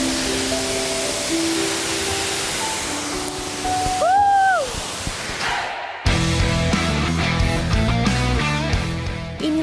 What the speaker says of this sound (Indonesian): Gimana ya sensasinya dengan cipratan air terjun?